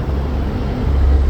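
Highway traffic on I-35 passes close by, a loud continuous road roar with rumbling low end that swells near the end as a vehicle goes by.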